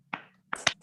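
Sharp hand claps, close and crisp: one single clap followed by a quick pair of claps.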